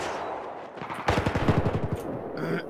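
Gunfire in Battlefield 4 on the Hammerhead map during a Rush defend round: a rapid burst of about a dozen close, loud automatic shots in quick rhythm, with a short electronic tone at the end.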